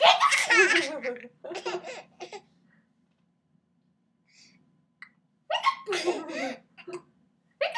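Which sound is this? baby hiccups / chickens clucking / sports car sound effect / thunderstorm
baby hiccups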